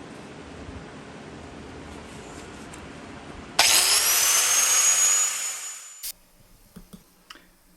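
Power saw cutting an opening for an HVAC duct in a porcelain tile floor: a loud, abrupt whining grind starts, holds for about two seconds, then spins down, followed by a few faint knocks.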